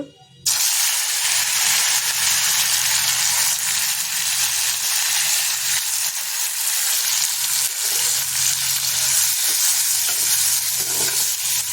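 Mustard seeds and spices fry in hot oil for a kadamba fruit dry curry, sending up a loud, close, continuous sizzle. Crackles and the scrape of stirring break through it here and there.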